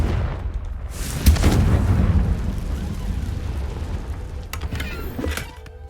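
A Confringo fire spell cast in Hogwarts Legacy, a deep booming blast that swells after a sharp onset, rumbles and fades, followed by crackling bursts near the end.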